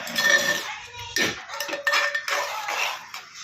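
Mawa and sugar stirred in a pan, with repeated loud clanks and scrapes of a metal spoon against the pan in an irregular rhythm, up close.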